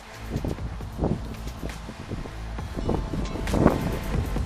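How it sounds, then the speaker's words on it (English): Gusty wind buffets the microphone with low rumbling thumps, irregular and fairly close, without any voices. "Oh, it's a little bit windy this."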